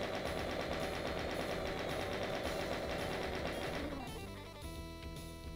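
A chaingun in the Doom map Molten Dystopia fires a rapid, continuous rattling burst that cuts off near the end, leaving a fainter mechanical whir over game music.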